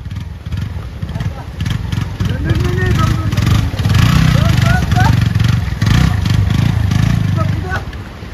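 A motorcycle rides along a rough, broken village road, its engine droning loudly and steadily with rattles and clatter over bumps, while riders talk over it.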